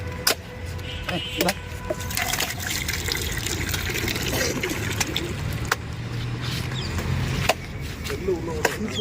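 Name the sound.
pouring tender coconut water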